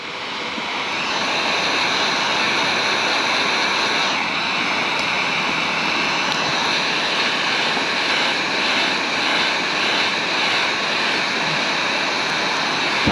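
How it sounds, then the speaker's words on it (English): A heat gun blows hot air steadily over vinyl wrap, a loud continuous broadband rush that holds unbroken for the whole stretch with no talking. "This heat gun gets hot very fast."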